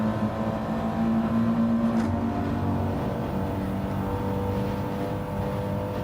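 Audi TT race cars in Gran Turismo 7, a steady loud engine drone with a sustained whine holding for about two seconds before easing, then continuous humming engine noise.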